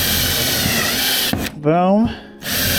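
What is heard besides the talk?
drill boring pilot holes in 2x3 wood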